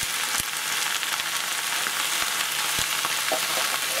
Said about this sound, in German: Dann kippe ich jetzt die Tomaten rüber.